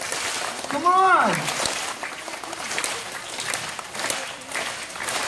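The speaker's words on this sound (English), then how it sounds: "Come on, clap your hands. Louder." Audience clapping hands at a sea lion show, a steady crowd patter of applause heard from a distance, with a whooping voice rising over it near the start and ongoing background voices.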